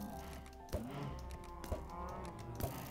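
Blocky cows in the Minecraft Stoneblock 2 modpack moo at low volume in a thinned-out herd. Soft clicks and thumps recur about once a second beneath them.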